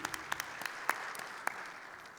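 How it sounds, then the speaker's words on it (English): Applause at a jewellery industry awards ceremony, fairly faint and thin, with a handful of distinct sharp claps popping out over a soft, continuous patter of clapping. "Let's have a huge round of applause"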